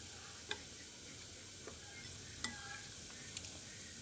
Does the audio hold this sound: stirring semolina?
yes